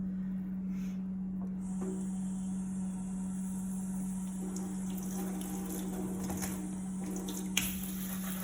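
Tap water runs steadily over fresh lemons being rinsed at a kitchen sink, a continuous close hiss with faint clinks and shifts of the fruit under the stream, no talking.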